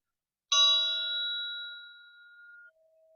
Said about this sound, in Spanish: Van a escuchar el gong